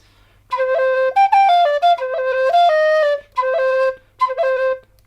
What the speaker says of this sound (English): this is a tin whistle playing the same tune